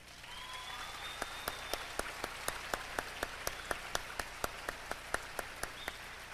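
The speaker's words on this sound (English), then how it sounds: "Let's all give them a round of applause" Audience applauding musicians and dancers at an outdoor Hawaiian lu'au, a faint, distant wash of clapping with a few louder, evenly spaced claps standing out nearby.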